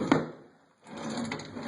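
Wooden drawers in a closet needing repairs slide and bump open or shut, two short scraping knocks separated by a brief pause, close and fairly quiet.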